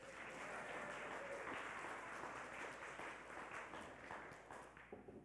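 A church congregation gives a quick round of applause, dense clapping that is faint and distant, lasting about five seconds and thinning toward the end.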